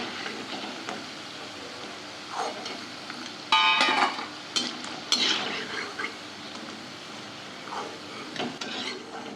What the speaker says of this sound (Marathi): आता याच पद्धतीने हे सर्व वाफाडे मी तळून घेते